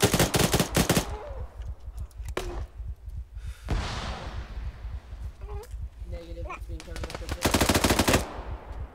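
Video game shooter gunfire: loud, fast automatic bursts at the start and end, with single shots and thuds in between, while players talk over the action.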